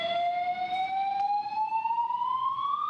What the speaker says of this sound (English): The alarm is now going off here in the parking structures at Terminal 4.